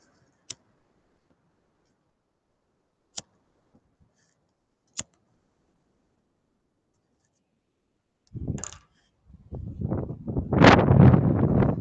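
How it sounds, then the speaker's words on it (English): Wind begins to blow after a long near-silence broken only by a few sharp clicks. It arrives as a brief gust and then builds into a louder, rushing gust that keeps rising to the end. "Cue the wind."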